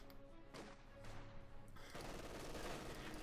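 MG 42 machine gun fire in Company of Heroes 2, a World War II strategy game: dense, continuous bursts of rapid automatic fire with loud, rough crackling that swells in the last second and a half.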